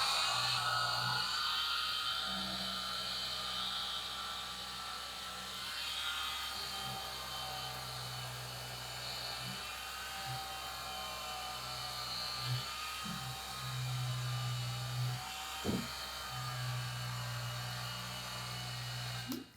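Electric sander buzzing steadily over wet felting wool, a continuous high motor whine with a low hum that breaks off and restarts in short bursts of a few seconds each, close and fairly loud.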